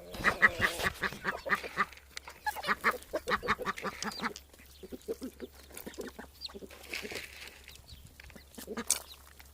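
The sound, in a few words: ducks quacking on a farm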